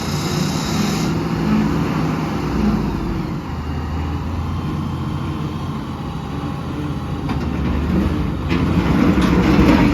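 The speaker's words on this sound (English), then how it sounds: "his wheel is spinning" A delivery truck stuck in a roadside ditch by a culvert, its engine roaring steadily as a wheel spins, a continuous rumbling drone heard close and loud throughout.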